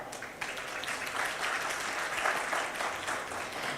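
Brisk, moderately loud audience applause for a yoga speaker after a talk on Hatha and Patanjali yoga, a continuous wash of many hands clapping with no speech.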